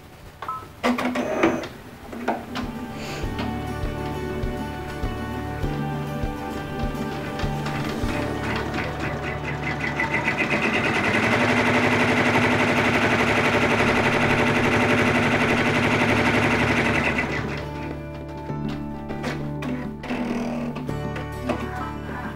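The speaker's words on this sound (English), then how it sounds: "we're gonna let the machine sew the next area for the second fabric" A sewing machine stitches the next section of an appliqué quilted letter for a second fabric, a dense rapid mechanical chatter that grows louder and steadier in the middle and then eases back to lighter clicking.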